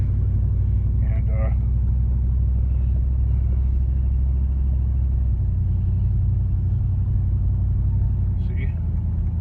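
A car drives down a snowy residential street, its engine a steady low rumble heard from inside the cabin for the whole stretch, with a few faint clicks and brief speech-like sounds over it.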